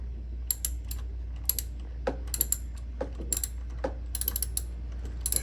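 Ratchet wrench clicks while tensioning the alternator belt on a 2005 Honda Fit, quick close-up clusters of ticks over a low steady hum in a home garage.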